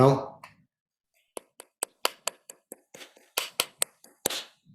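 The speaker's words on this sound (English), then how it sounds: "Somebody crumpling paper. Not a good thing." Paper being crumpled in a meeting room, a sequence of sharp crackling bursts at irregular intervals, close and distinct, after a brief spoken voice.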